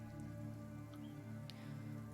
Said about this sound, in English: The rain starts to pour down like buckets from the sky